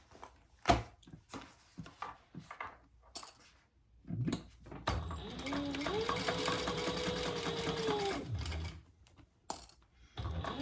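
Sewing machine stitching a shoulder bag with a bobbin nearly out of thread, preceded by scattered clicks and handling, then a steady mechanical whir of needle strokes for about four seconds before stopping.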